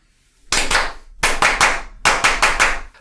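Three bursts of sharp hand clapping, each a quick cluster of close, loud claps separated by brief silences, used as a sync marker for filming.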